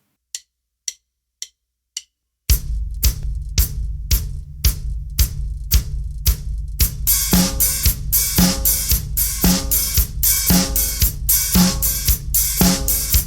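Four count-in clicks lead into a disco drum pattern: a four-on-the-floor kick pulsing under the hi-hat, then a fuller groove with sixteenth-note hats and snare backbeats joining partway through. Loud, close and without speech.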